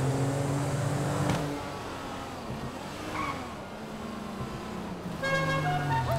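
Car horn in the Grand Theft Auto V video game, short tonal toots near the start and end over revving engine and tire squeal, loud and close with no talking.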